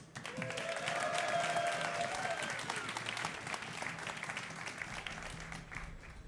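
A crowd cheers and applauds loudly at a live StarCraft tournament at DreamHack, steady clapping and shouting throughout with a rising whistle-like cheer early on, holding strong before easing slightly.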